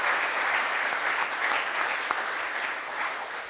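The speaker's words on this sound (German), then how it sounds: "Großen Applaus" A studio audience at a sports entertainment show applauding, a continuous even wash of clapping at moderate level without pauses.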